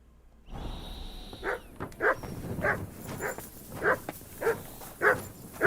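A dog barks repeatedly in the medieval game Kingdom Come: Deliverance, a series of about eight evenly spaced yaps over a low ambient backdrop, fairly close and with no speech.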